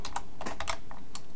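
Quick bursts of keystrokes on a computer keyboard, close and crisp, with short irregular pauses between clicks and no voices.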